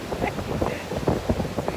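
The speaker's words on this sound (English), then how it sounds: "It's a bit windy and rainy and wavy." Gusty wind buffeting the microphone with a low rumble on a rainy coast in Sardinia, continuous and fairly loud, with indistinct voices mixed in underneath.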